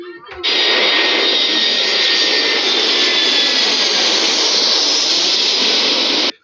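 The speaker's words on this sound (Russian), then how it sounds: "Самолет." An airplane's jet engines roar loud and steady for about six seconds, a broad, even hiss-laden rush that cuts in abruptly and stops just as suddenly.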